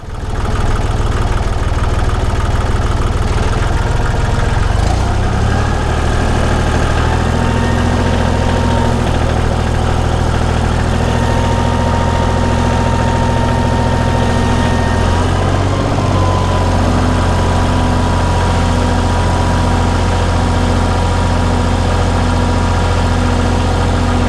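A tractor engine idles steadily and close by in a shop building setting, a loud continuous low drone with a slight shift in pitch partway through, and no voices.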